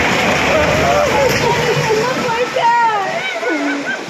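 Floodwater after heavy rain in Nellai surges and splashes loudly as a house collapses into it, a continuous roaring wash with people crying out and shouting over it.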